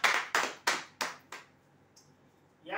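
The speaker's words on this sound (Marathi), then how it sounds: "जोरदार टाळ्या हुरूसाठी" At a prize draw, five sharp, evenly spaced claps ring out close by, fading after about a second and a half, with another burst of clapping starting just at the end.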